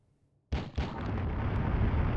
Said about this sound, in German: Alter, die Explosion in diesem Spiel